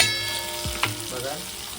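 Vam fish pieces frying in a pan, a soft, steady sizzle with a brief clink partway through, fairly quiet and with no voices.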